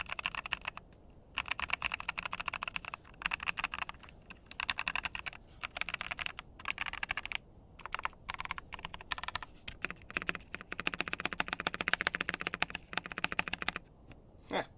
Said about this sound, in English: Definitely higher, more clacky after the tape mod